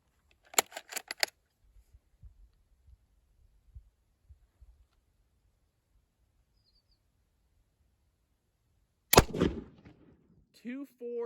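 A rifle fires Ethiopian surplus 8mm ammunition with one sharp, loud report late on, preceded by clicks and handling noises and followed by a brief voice.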